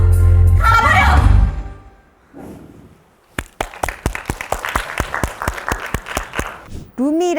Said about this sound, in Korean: 너무 큰 박수 한번 쳐주세요